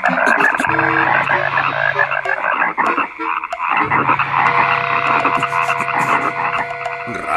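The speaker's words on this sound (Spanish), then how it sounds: "¿Ranas?" A dense chorus of frogs croaking loudly and continuously, layered rhythmic calls filling the whole stretch with a brief dip midway and no voices.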